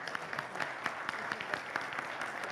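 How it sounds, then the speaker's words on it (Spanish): Audience at a Senate book presentation applauds in farewell to the Senate president, a thin, steady patter of individual claps in a hall, moderately quiet and fairly even throughout. "la despedimos con un cálido aplauso"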